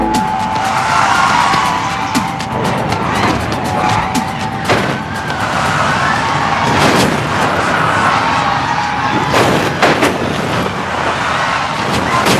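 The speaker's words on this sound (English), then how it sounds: "Stock car racing was becoming a big-time sport." Stock cars with 500-horsepower engines racing around a track, a continuous loud roar of engines with repeated sharp passes and bursts as cars sweep by.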